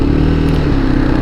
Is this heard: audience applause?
no